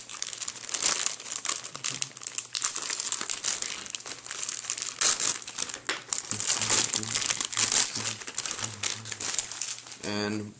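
Plastic crinkles and crackles up close as a bag of Kamen Rider model kit parts is handled and cut open, in irregular bursts of rustling with brief pauses.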